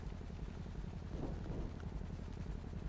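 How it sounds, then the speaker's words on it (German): A large helicopter in the video game GTA drones steadily at a distance with a low rhythmic rotor thump, faint and continuous, with no talk over it. "Das ist gerade ein großer Hubschrauber."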